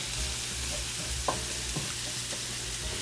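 Onions fry in butter and avocado oil in a pan, a constant close sizzle with a low hum beneath and a couple of faint taps from stirring.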